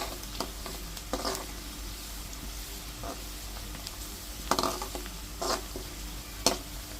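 Chicken frying in a pan makes a low, quiet sizzle, broken by several short scraping stirs that come at irregular intervals.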